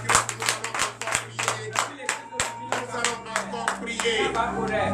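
Rhythmic clapping by a congregation acclaiming the Lord at a Saturday morning prayer service in Benin: separate, evenly spaced hand claps with a low sustained hum underneath and voices heard during the claps.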